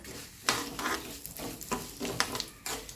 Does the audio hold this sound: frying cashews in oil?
yes